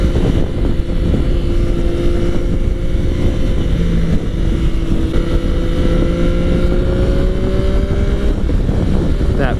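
A 2017 Yamaha FJ-09 motorcycle engine while riding, a steady loud drone with slowly rising engine pitch, heavy wind rush over the microphone throughout.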